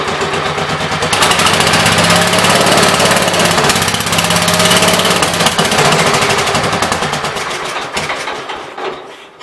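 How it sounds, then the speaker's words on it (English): A Gravely 810 tractor engine running on choke, a loud, rough, rapid chugging that holds for several seconds, then falters and dies away near the end, with no talking. "if I push the choke closed a little more, it runs for another second."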